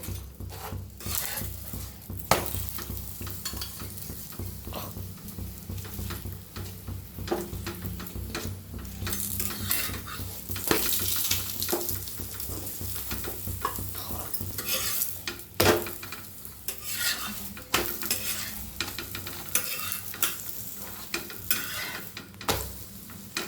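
A chapati roasts with oil on a tawa, giving a soft steady sizzle broken by frequent clicks and scrapes of pressing, turning and stirring against the pan, without any talking.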